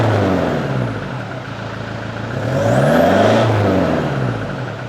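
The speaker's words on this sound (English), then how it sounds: "give it a bit of a rev up and we'll see what it sounds like" Close Toyota Hilux ute engine hum with a deep aftermarket exhaust tone rises into a single strong rev, then settles back, loud and throaty, no talking.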